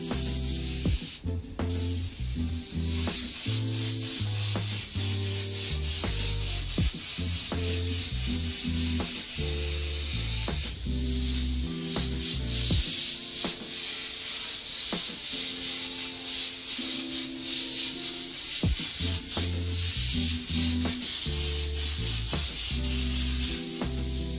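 Airbrush spraying paint: a steady, loud, close hiss of compressed air running nearly without pause, briefly cutting out near the start. Background music plays underneath.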